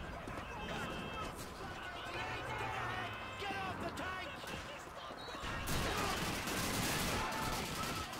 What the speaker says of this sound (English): they're already throwing grenades and shooting me!